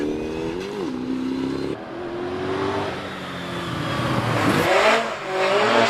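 A 3.5 litre Brabham race car powers through the S's at Prescott, its engine loud and close, the pitch climbing and dropping through quick gear changes and lifts, then surging again.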